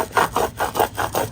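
A hand rubs firmly back and forth over transfer tape pressed onto a surface for a DIY book-cover project. About six even, rhythmic swishing strokes, close and fairly loud, with no talking.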